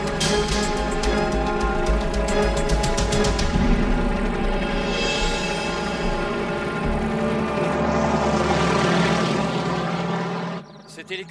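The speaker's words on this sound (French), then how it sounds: "Cet hélicoptère est équipé d'une caméra à infrarouge, reliée à un ordinateur performant." A helicopter carrying an infrared camera thunders close by with loud, rapid rotor chopping and engine whine that swells and fades, while voices speak over it.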